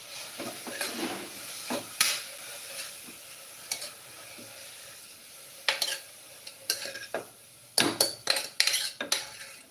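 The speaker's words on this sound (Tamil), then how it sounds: "கொஞ்சம் அந்த பச்சை வாசனை போகிறதுக்கு வதக்கிக்கணும்" Snake gourd sautéing in a pan, a low sizzle under bursts of sharp spatula scrapes and metal clanks against the pan, growing busier toward the end, with no voices.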